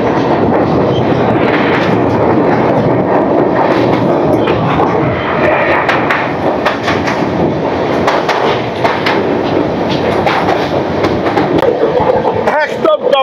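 A long-distance passenger train crosses bridge number 59 over the Jaldhaka river. A loud, continuous rumble with rhythmic clatter fills the whole stretch, and a voice talks over it.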